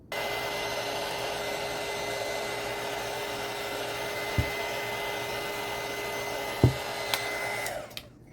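Shrink wrapping a mug gift with heat gives a steady, loud blowing whir that runs without a break. A few light knocks sound over it before it cuts off near the end.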